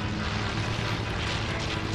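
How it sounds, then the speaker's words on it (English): Propeller airplane flying in a multiplayer shooter video game, a steady droning engine roar that holds loud and close for the whole moment with no pauses. "There's another plane."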